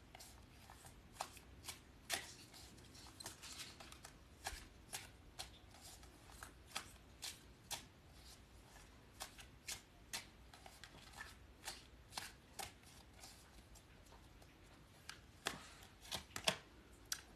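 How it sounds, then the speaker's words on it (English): Tarot cards are shuffled by hand at close range, a long run of soft, irregular slaps and riffles repeating at an uneven rhythm against quiet background. "I was just thinking as I was shuffling"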